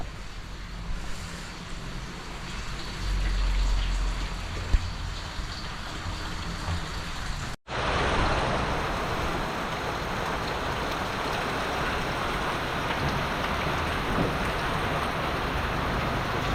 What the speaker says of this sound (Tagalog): Diretso yung ulan mga boss.